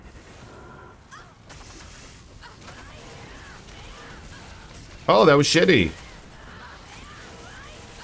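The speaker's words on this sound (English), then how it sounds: "This is just little ice explosion is all it is." Burst of icy explosion effects from the Blades of Ice skill in Diablo 2 Resurrected, one loud cluster lasting under a second amid quieter game sounds, with someone talking briefly.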